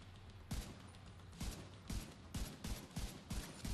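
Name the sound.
gunfire from a gun in the video game The Division 2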